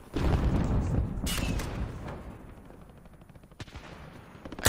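Sniper gunfire in a video game: a few sharp, isolated cracks over a rumbling battle background, moderately loud and spaced a couple of seconds apart, with no speech.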